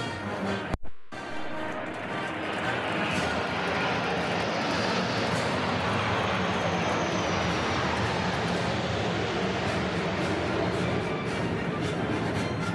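Military jets roar overhead during the Bastille Day parade, a loud continuous broadband rumble that swells and holds for several seconds after a brief dropout, with no talk.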